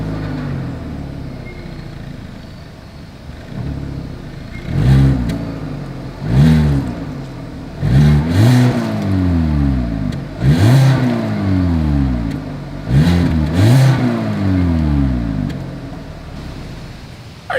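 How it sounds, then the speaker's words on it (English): A 2022 Hyundai Accent with a single exhaust revs in about seven quick bursts. Each one rises sharply from a low idle and falls back, heard close and loud with no talking. "As always, here is that exhaust clip."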